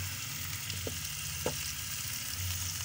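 Steady sizzling and crackling of chicken roasting in a covered pan with little oil, even and moderate in level, with a couple of soft taps and no voices.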